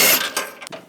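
A ratchet wrench with an 18mm socket loosening the front bumper bolts on a 2014-2018 GMC Sierra, a short close burst of metallic clicking that quickly fades.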